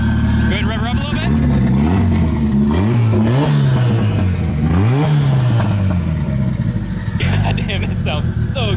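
A Mitsubishi Evo with a 4G63 engine, built to about 1100 horsepower on 56 psi of boost, revs loudly and close by in repeated rising and falling pulls over a rough, lumpy idle, with people's voices mixed in.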